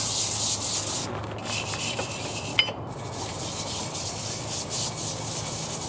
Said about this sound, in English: And then we're just going to give it a little bit of a scrub.